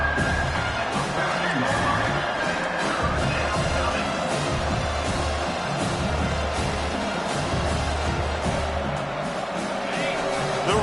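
A football stadium crowd roars steadily to urge on the defense, a dense, continuous wash of cheering and shouting that stays loud for the whole stretch, with a commentator talking over it.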